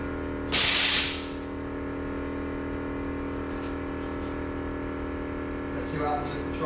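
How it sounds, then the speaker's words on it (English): A 1950 GMC pickup truck fitted with Airlift Performance 3H air ride suspension gives one loud, sharp hiss of released air lasting about half a second, followed by a steady engine idle and faint later puffs. "Let's see what happens if we try and dip the back wheel."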